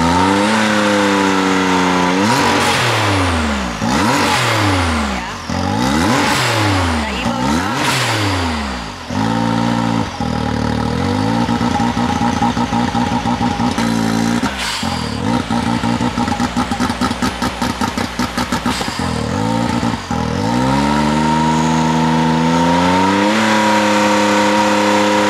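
A tuned Mitsubishi Evo engine warms up and revs hard up close, with repeated loud rising and falling sweeps, sharp blips and a rattling exhaust between the pulls.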